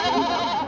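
A goat, a Jamunapari crossed with Black Bengal or local stock, lets out one close, wavering bleat at a 2024 livestock fair, loud and alone for under a second.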